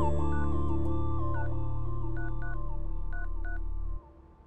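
Telephone call tones: a rapid string of keypad dialing beeps over a steady electronic tone, loud and close, then stopping abruptly.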